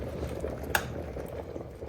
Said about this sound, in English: Alright, so we're at a full boil.